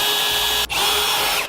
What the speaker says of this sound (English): drill out a 1/2 inch hole here to install our last remaining hardware